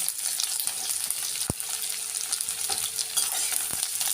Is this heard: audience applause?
no